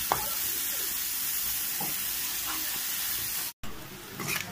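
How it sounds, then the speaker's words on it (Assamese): Fish heads fry in a pan with a continuous crackling sizzle and hiss, heard up close and alone, with faint stirring scrapes and a brief cut near the end. "এফালে মাছৰ মাথা আছে এনেদৰে ফ্ৰাই কৰি থৈছোঁ"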